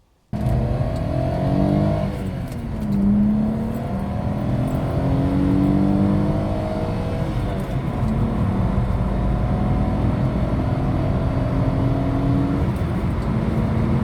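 A Volkswagen Corrado car engine revs and drones continuously, pitch rising and falling through several throttle sweeps, loud and steady throughout.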